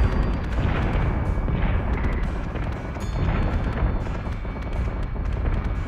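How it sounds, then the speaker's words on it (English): Ship weapons in Battlestar Galactica Deadlock fire in a dense, loud, continuous barrage of booming blasts and bursts that rumble on without a break. "Firing on target."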